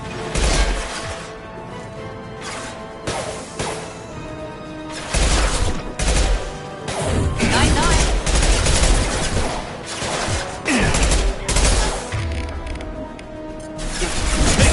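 Heavy gunfire in a Mass Effect 2 firefight played on a PS4 Pro: loud, sustained bursts of automatic fire and sharp shots with crashing impacts, coming in waves with brief lulls between them and no clear talk.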